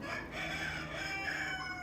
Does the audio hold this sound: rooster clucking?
yes